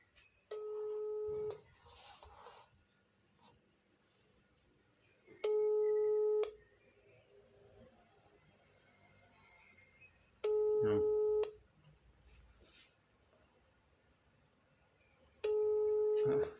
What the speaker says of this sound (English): The number is ringing and counting, taking my money.